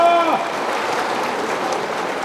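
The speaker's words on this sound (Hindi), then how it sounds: "तो फाइनली तालियां बजाना" An audience claps steadily at a poetry recital, a dense, even applause that starts as a short sung note fades out and carries on loud throughout.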